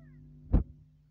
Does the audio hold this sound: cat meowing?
yes